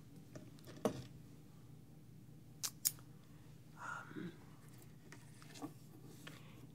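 Scissors snip hair during a haircut and shave, giving a few sharp, quiet clicks spaced apart over a hushed room, with faint rustling between the cuts.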